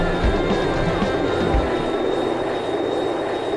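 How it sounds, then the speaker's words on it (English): Aircraft buffeting in the Fighters Anthology flight simulator game, an early stealth jet: a loud broadband roar with a few low thumps early on and a thin steady tone above, continuous. "Okay, why are we buffeting?"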